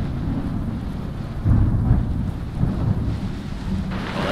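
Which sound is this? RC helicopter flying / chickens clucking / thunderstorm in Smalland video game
thunderstorm in Smalland video game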